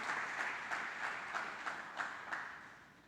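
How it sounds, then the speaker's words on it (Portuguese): Church congregation applauding during a sermon, a steady wash of clapping with a few louder bursts, fairly distant and soft, without speech. "Pode dar um aplauso ao Senhor que vale a pena"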